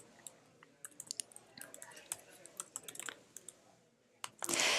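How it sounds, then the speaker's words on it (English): Rapid, uneven keystrokes clatter on a computer keyboard up close, in short bursts with brief pauses, ending in a louder rustle. "I'm going to type in the name one more time"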